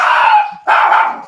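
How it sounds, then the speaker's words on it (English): Dogs bark in two sustained, excited bursts close by, separated by a brief pause, loud and frantic without talk over them. "I had dogs going crazy."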